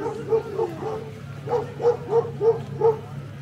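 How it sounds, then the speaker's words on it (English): Street dogs in a Turkish town barking in a steady series of repeated woofs, moderately close, with light background noise. "So we've just been kicked out of this street by one of the street dogs."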